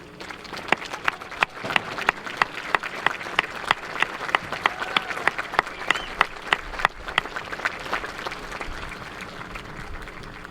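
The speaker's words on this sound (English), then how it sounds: "Would all of you please stand to be recognized with a warm round of applause" School personnel at a high school graduation ceremony receive a warm round of applause from the audience, steady dense clapping with sharp individual claps standing out, moderately distant in a large hall.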